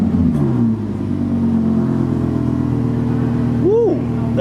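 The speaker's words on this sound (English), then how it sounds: "Let's now listen to the V10 sound once it starts up." An Audi R8 facelift with a naturally aspirated V10 settling into a loud, throbbing idle just after start-up, a steady close engine rumble with a brief whoop from a voice near the end.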